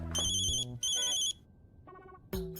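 A mobile phone ringtone rings close by in a quiet room, a bright electronic melody in short repeated bursts with brief gaps between phrases, heard alone with no voices.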